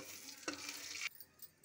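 Kashmiri red chili powder and salt fry in hot oil, a quiet sizzle that flares briefly and softly for about half a second before dying back to near silence.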